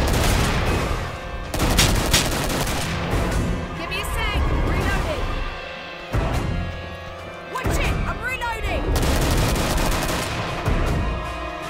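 Rapid bursts of gunfire from a Commando's weapon in the video game Killing Floor rattle out loud and close in several long volleys, with brief pauses between them, layered over dense game noise.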